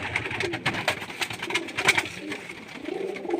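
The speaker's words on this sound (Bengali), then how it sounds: "দেখুন মাদা পায়রা এটা আর একটা মাদা পায়রা" Female pigeons coo at a home loft, a few soft calls close by under low background noise and faint chatter.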